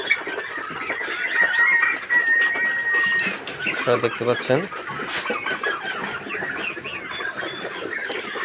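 Around two hundred four-month-old turkeys call and gobble on a small turkey farm, a busy, overlapping chorus of poultry calls heard close, with someone speaking over it.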